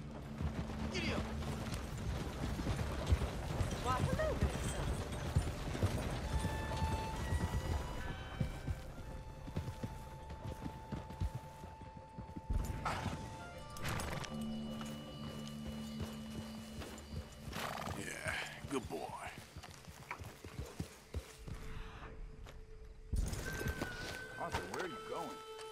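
Horse galloping in Red Dead Redemption 2, with rhythmic clip-clop hoofbeats and neighing, under game music, gunfire bursts and characters' voices speaking now and then.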